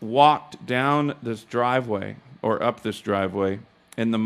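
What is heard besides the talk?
No everyday noise stands out behind the speech.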